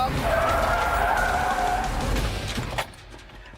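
A Ford truck's tires squeal loudly as it understeers through a corner on a test course, a long sustained skid with engine noise underneath that fades after about three seconds, followed by a brief thump.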